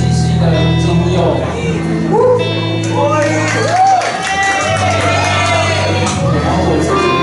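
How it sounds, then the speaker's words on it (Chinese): Crowd at a university recording club's opening meeting cheers, whoops and shouts in welcome for a student band, a steady loud roar of voices with a band's sustained instrumental tones underneath. "有掌声啊！ 欢迎！"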